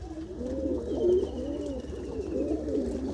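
A pet pigeon coos close by in soft, rolling, repeated calls that continue steadily, with faint background noise.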